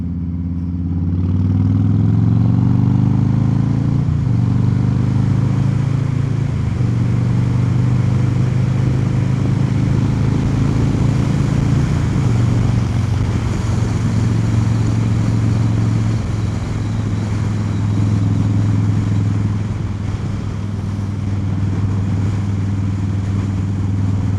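A 2024 Harley-Davidson Low Rider S motorcycle's engine drones loudly and steadily at cruising speed while being ridden, its deep rumble dipping briefly at a couple of gear changes amid wind noise.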